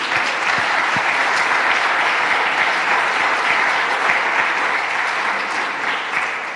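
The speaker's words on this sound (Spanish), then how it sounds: "Y denle un aplauso al Señor." Church congregation applauding the Lord during a sermon: dense, loud, sustained clapping from a large crowd, steady throughout and easing only slightly at the end.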